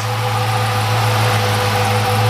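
A 1955 Chevrolet 210 engine with polished Borla mufflers idles steadily with a low, even rumble, close by and constant throughout.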